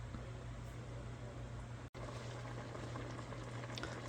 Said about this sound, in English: Look at that nice simmer happening.